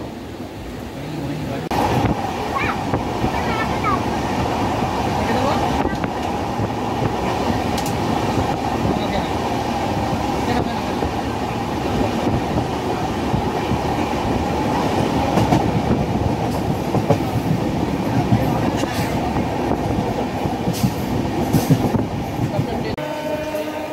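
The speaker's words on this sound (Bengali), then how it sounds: "5:10-এ আমাদের ট্রেন ছাড়লো কামরূপ এক্সপ্রেস" The Kamrup Express runs steadily with a loud continuous rumble and rhythmic rail clatter, close and sustained throughout, with faint voices in the carriage.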